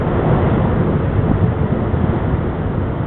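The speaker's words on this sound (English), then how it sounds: "that last gust" Strong hurricane wind during Hurricane Gustav in 2008, a steady, loud, roaring broadband rush that buffets the microphone without letup for the whole stretch, with no voices.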